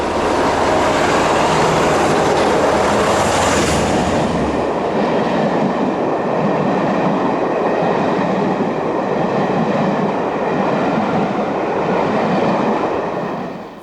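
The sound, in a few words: cross-country passenger train passing on Southern Railway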